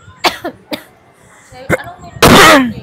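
A few short coughs, sharp and close, followed by a longer, harsher cough burst at the end.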